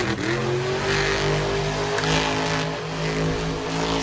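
A monster truck engine roars loudly and continuously while spinning a donut at an independent event in Salinas, its revving rising and falling with a dense, throaty drone and no one speaking.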